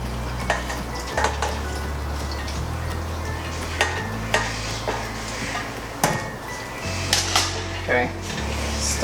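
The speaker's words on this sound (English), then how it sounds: "stir that up" Homemade dog food mixture of cooked ingredients with fat renderings being stirred in a pan, with repeated scraping and clinking of a utensil against the metal over a steady low hum, close and fairly loud.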